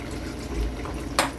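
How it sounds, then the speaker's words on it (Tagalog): Water poured into a cooking pot of sautéed pork for sinigang, a brief soft liquid rush with a short splash near the end, close and fairly quiet. "Pwede na tayo maglagay ng tubig."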